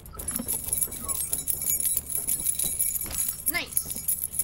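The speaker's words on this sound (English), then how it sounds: "Jingling keys." Keys jingle in a video game during a livestream, bright metallic jangling repeated several times while the player talks over them.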